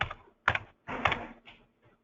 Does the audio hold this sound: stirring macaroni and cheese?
no